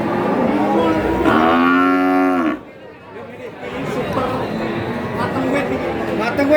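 A cow at the Tuban cattle market in Indonesia gives a long, loud, drawn-out moo, followed by a busy market crowd murmuring and chattering nearby.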